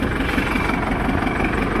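A steady, low 47-horsepower tractor engine idle chugs close by, a continuous rumbling drone with a faint rhythmic knock and no talking.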